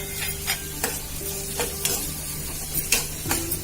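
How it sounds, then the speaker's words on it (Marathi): Onion frying in a pan while being stirred, a constant soft sizzle broken by several sharp scraping clicks of the spoon against the pan. "आता कांदा थोडा शिजू देऊया।"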